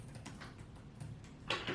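Soft keyboard typing of a whiteboard title in Microsoft Whiteboard, a quiet run of light, irregular key taps close by with no talking.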